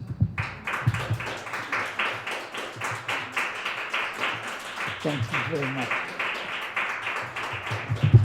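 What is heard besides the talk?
audience applause after a poetry reading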